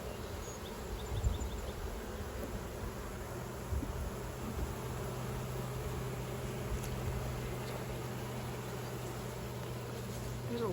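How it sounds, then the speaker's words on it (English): Honeybees in an opened hive of hatching capped brood, a steady dense hum of many insects droning evenly and close throughout, with a low constant tone underneath. "There's a lot more bees in there."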